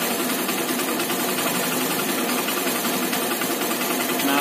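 A Honda Shine motorcycle engine, just fixed after a low-RPM tuning problem, idles steadily with a continuous even mechanical hum that stays loud and close throughout, with no voices over it.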